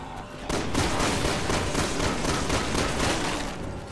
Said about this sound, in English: My shotgun is actually shooting them.